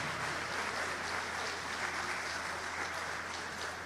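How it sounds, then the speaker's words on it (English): Steady applause from a crowd at an outdoor opening ceremony on a college campus, dense and continuous throughout, fairly even in loudness with no voices standing out. "So let's give these people a round of applause."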